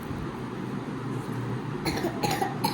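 A child gives a few short coughs near the end after a stretch of low background noise.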